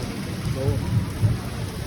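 A thunderstorm with steady rain and low, rolling thunder rumbles close by, fairly loud throughout.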